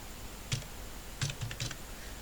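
Keys tapped on a computer keyboard while entering text in Microsoft Word, a few quiet scattered clicks with a short burst of several keystrokes near the end, no voices.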